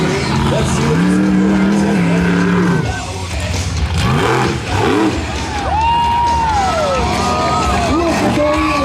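A monster truck's engine revs and wails loudly at an outdoor show in Lamar, Missouri, pitch rising and falling as it pulls a wheelie, over crowd noise while an announcer talks.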